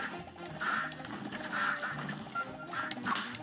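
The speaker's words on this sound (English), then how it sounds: "oh my god, you can't get by these stupid ducks." Ducks quack repeatedly in a video game in the Warblin' Souped Up mod, a steady run of nasal calls over a continuous busy game backdrop.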